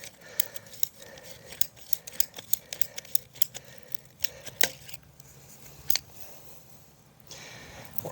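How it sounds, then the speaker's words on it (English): Sharp clipping snips of a cutter biting through a PVC sprinkler line, a rapid irregular series of close, crisp clicks with brief pauses, no talk. "We're gonna get in here, cut the line nice and close."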